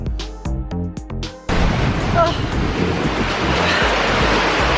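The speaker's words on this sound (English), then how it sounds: "The mist is actually more of a rain shower." Dense, hissing waterfall mist spray and rushing water at Vernal Falls, Yosemite, roar steadily after a short burst of music, loud and close with wind buffeting the microphone.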